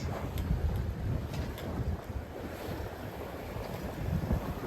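A Pearson 26 sailboat under sail near Jamestown Bridge, Rhode Island, in a 6 to 10 knot breeze at about 5 knots, with a steady rush of wind noise and water washing along the hull, close and continuous, no voices.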